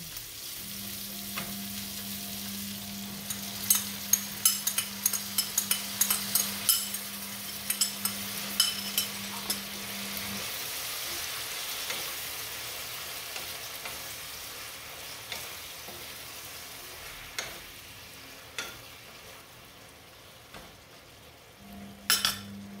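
Water poured into a hot pan of sea bass for sweet and sour fish, a steady sizzle with scraping stirs and clinks of a utensil against the pan, a low hum running through, no talk.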